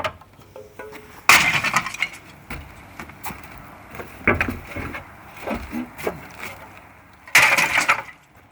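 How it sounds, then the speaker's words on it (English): Two loud crashes of roof tiles smashing into a metal container, one early and one near the end, with scattered clinks and thuds between. "hearing these tiles shatter in there actually is super satisfying"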